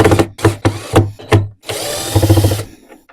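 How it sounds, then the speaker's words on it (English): A power drill or driver removes screws from a T&M Systems FG115s subwoofer driver in a quick series of five loud, close whirring bursts, followed by a longer sustained run. "All right, so we have to remove the screws."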